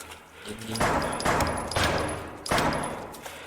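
Gunfire in a horror video game set in a sewer, rapid bursts of automatic fire in several loud volleys, close and harsh, with faint voices mixed in.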